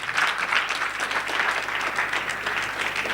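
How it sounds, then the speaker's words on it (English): A crowd claps in steady, dense applause for about three seconds with no pause, a brief surge early on and no clear voices above it. "Another round of applause"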